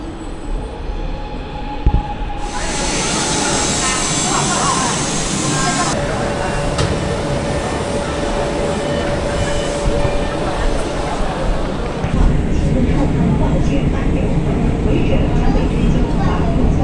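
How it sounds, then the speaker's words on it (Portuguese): A metro train passes beside a riverside station, with a loud rolling rumble, rail clatter and a sustained wheel squeal. The sound shifts as cars go by, and there is background chatter throughout. "Um dos metrôs ali de lado."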